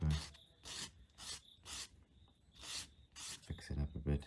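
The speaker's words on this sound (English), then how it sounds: "Okay, let's take some sanding paper." Sandpaper rasps across leather during a leatherworking project to make a dog, in about six distinct scratchy strokes with short pauses between them, close and clear.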